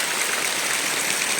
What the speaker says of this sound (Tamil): தண்ணி பைப்லேருந்து ஊற்றுற மாதிரி ஊற்றிட்டே இருக்குது